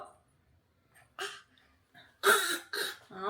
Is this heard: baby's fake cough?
yes